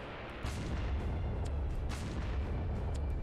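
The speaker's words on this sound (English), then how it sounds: "I love the sound effects of this gun" Main gun of a naval warship in a video game firing, a sustained heavy boom with a rumbling low roar that rolls on for several seconds after a sudden onset, loud and dense, with no voices.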